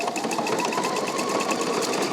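A Pfaff sewing machine runs steadily, sewing decorative ribbon stitches as a trim, with a continuous close mechanical whir and rapid needle patter and no pauses.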